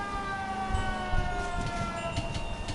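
A steady wailing siren on an ambulance in the L.A. Noire video game holds sustained tones over low rumbling road and engine noise, moderately loud throughout with no voices.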